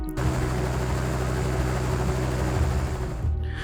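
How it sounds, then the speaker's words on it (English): A helicopter flying overhead makes a steady low mechanical drone with throbbing low-end layers, loud and continuous. "From the skies above, they heard the sound of a helicopter."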